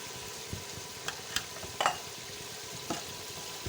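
Ginger garlic paste and spices fry in a pan for goat head curry, giving a soft steady sizzle broken by a few scattered stirring clinks and scrapes.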